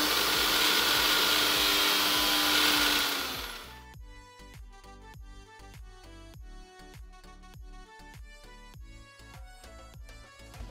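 An electric mixer grinder blends chutney ingredients with salt and water, giving a loud, steady whirring roar for about four seconds before it cuts off. A rhythmic, music-like ticking pattern follows.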